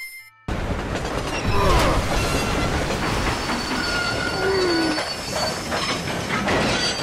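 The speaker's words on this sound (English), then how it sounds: "John was able to stop the train at that speed from that short of a distance" A train in Red Dead Redemption rumbles loudly and close with clattering wheels and high metallic brake squeals sliding across the run, after a brief quiet start.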